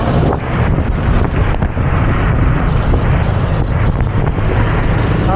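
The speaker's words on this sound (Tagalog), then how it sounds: "Lakas ng hangin" Strong wind roars steadily across the microphone during a motorcycle ride through busy city traffic, a loud, constant buffeting rush with no voices.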